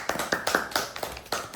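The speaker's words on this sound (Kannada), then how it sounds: "ಚಪ್ಪಾಳೆ." A few people clapping indoors in a quick, uneven run of close, crisp claps for a short burst.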